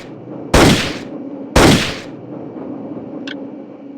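Two sharp, loud sniper rifle shots about a second apart ring out in the video game Indiana Jones and the Infernal Machine, each with a short decaying tail, followed by a faint brief click over a low ambient hum.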